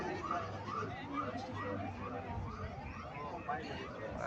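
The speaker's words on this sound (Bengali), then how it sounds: "আহতদের অ্যাম্বুলেন্সের মাধ্যমে সরিয়ে নেওয়া হচ্ছে" An ambulance siren wails during an earthquake rescue drill at Barishal Stadium, its rising and falling tone repeating steadily at moderate distance beneath crowd noise and talking.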